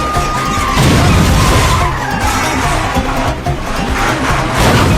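A vehicle skids loudly as it turns, with a sustained close tire screech over a rough engine roar that runs without a break for the whole stretch.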